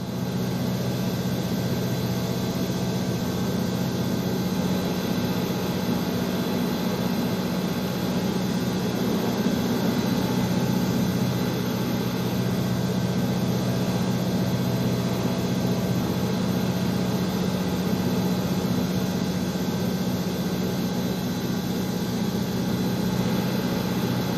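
An aircraft ground power unit engine warming up on an airport apron in the Airport Sim video game, giving a steady, continuous low droning hum with a broadband whine that stays even and unbroken throughout, with no talking.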